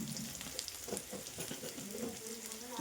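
Onions sautéing in a pan for puffed-rice upma, giving a steady close sizzle and fry hiss with soft stirring scrapes and clinks throughout, no voices.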